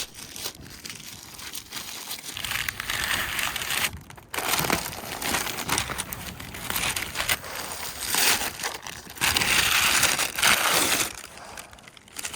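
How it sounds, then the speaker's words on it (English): Masking paper and tape ripped and crumpled off a freshly painted Honda Civic, a continuous close crinkling and tearing that runs in loud bursts with brief pauses, no talking. "I'm gonna go ahead and rip this paper off"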